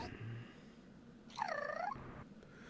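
In a VRChat session, a human voice imitating a cat gives one short, fairly faint meow over soft background hiss, with a low purring rumble at the start.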